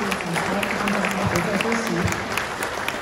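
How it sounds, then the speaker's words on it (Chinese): Audience applause at a Volkswagen brand event in Taiwan, a steady wash of clapping that holds at an even level from start to finish. A faint voice carries over it at low pitch. "再一次热情的掌声"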